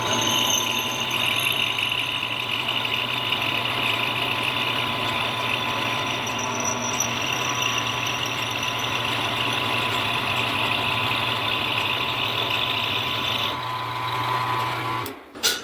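A mini lathe runs steadily while turning a part for a trap door opening in its headstock, a continuous mechanical whine and motor hum holding level throughout before cutting off abruptly near the end.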